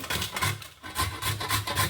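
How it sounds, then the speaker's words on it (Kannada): An unpeeled wild mango is rubbed across a grater, making close, rhythmic rasping strokes about four times a second with a short pause partway. "ನಾನು ಮಾವಿನಕಾಯಿ ಹಿಂಗೆ ತುರ್ಕೊಂಡ್ಬಿಟ್ಟೆ"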